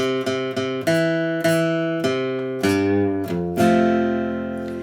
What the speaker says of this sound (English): bend it up just a little bit, not too much, let it come back down again